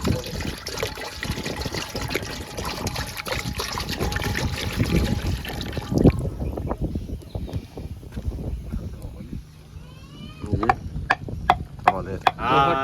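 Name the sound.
water poured into pot for cooking pasta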